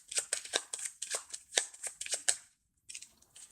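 Game cards for the Space Race board game shuffled in quick riffling bursts, close and crisp, pausing briefly before a final few flicks.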